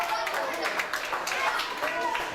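Wrestling crowd at a W3L Showdown event, clapping and cheering as a continuous dense roar with faint rhythmic claps, steady and loud throughout.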